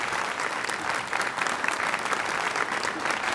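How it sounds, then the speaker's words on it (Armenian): A studio audience claps in steady, dense applause for a performer on a television club show, sustained and loud throughout. "բարձր ծափարենք Վանին Nemra-ից"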